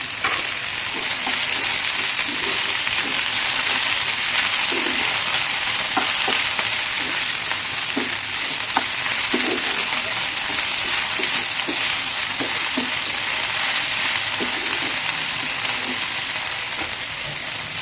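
Potato pieces and broad beans fry in a pan, a loud, constant close sizzle with small crackles and pops scattered throughout and no speech.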